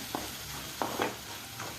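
Soaked, pressure-cooked mung beans are stirred in a pan, a faint low sizzle with three or four soft scraping stirs, quiet and close, no talk.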